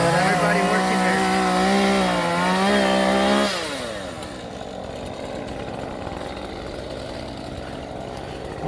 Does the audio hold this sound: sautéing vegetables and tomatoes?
no